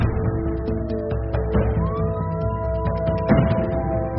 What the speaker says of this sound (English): Sirens. Police sirens?